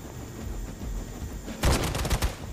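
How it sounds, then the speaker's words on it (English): Video game gunfire in Marvel's Midnight Suns breaks out in a sudden burst of several rapid, loud shots after a quiet stretch of low ambience. "Damn, they really are shooting me"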